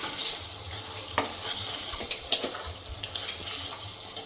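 Sev tomato curry with half a spoon of garam masala being stirred in a pan: steady soft sizzling with scraping stir strokes and a few sharper clinks, close and moderately quiet, no talking.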